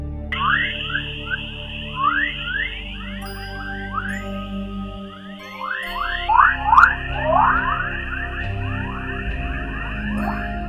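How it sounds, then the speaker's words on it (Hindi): Sound presented as the voice of the Earth from space, a stream of eerie rising chirps and whistles over a steady high whine and a low droning rumble, with no voices. "अब हम आपको अपनी पृथ्वी की आवाज को सुनाएंगे,"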